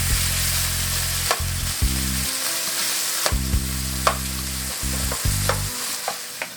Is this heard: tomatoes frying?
yes